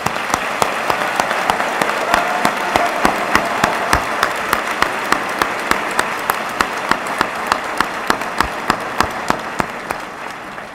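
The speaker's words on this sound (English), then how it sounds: "A round of applause for our students recognized today." A commencement-ceremony audience claps steadily for about ten seconds, loud and dense, with sharp individual claps standing out through the continuous applause.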